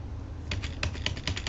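A cat named Gypsy walks across a computer keyboard, setting off a few soft, uneven clusters of key clatter up close in a quiet room, with no voices.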